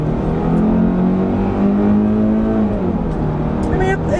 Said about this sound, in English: it actually has a little bit of a cool sound to it whenever it gets up to those higher RPMs